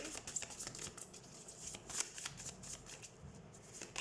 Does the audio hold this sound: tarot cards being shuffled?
yes